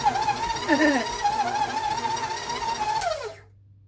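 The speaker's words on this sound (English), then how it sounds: "Yeah, my KitchenAid's crazy." KitchenAid stand mixer kneading pepperoni bread dough, a close, steady whirring motor hum with wavering pitch that winds down and stops near the end.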